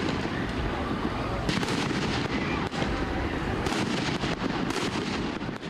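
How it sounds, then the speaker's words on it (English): Dense, continuous crackling and popping bursts fill the air, a steady barrage of distant fireworks over a noisy outdoor crowd of protesters at night in Los Angeles. "You see there fireworks lighting up the sky"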